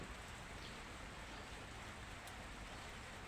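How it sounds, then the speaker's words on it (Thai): Soft, steady rain hisses evenly throughout, a dense faint patter of drops with no voices. "เพราะว่าฝนตกครับ"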